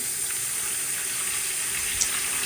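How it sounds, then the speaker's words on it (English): A hot investment-cast metal piece quenched in a bucket of water and sludge, a steady close fizzing and bubbling hiss that holds level throughout with a brief sharper pop, no voices. "this guy's gonna go in there and quench. Fill up some more water. He's bubbling away."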